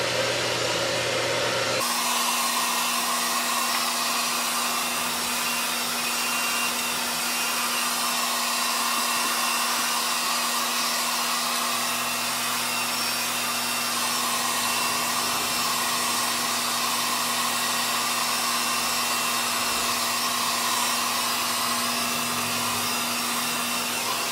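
A hair dryer runs steadily and loudly while a round brush blow-dries thick hair from the base upward, a continuous airy roar with a slight change in tone near the start and no talking.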